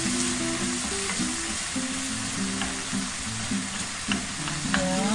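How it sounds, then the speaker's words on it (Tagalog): Chopped onion sizzles steadily in a hot pan, a continuous loud frying hiss with stirring clatter, while faint tonal music plays underneath. "Next step, atin na ilagay ang sibuyas."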